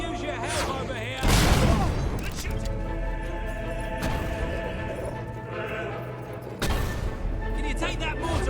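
A loud explosion during a castle assault in the video game Fable 3, a heavy boom bursting over game sounds and voices, with a second blast hitting near the end amid ongoing battle noise.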